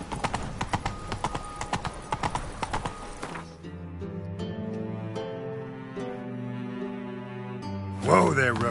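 Roach the horse's hooves clip-clopping in The Witcher 3, a quick run of sharp hoofbeats for the first few seconds, then giving way to music with a brief flurry at the end.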